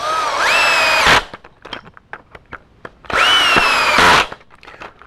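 Cordless drill driving self-tapping screws into a pocket hole joint held by a face clamp: two loud bursts of a rising motor whine, each about a second long, separated by clicks and handling noise.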